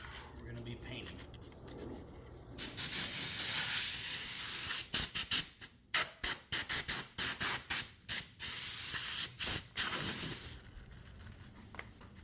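A spray gun paints a C8 Corvette bumper in Arctic White during a mobile repair, letting out a long steady hiss and then many short sharp bursts of spray, close and fairly loud.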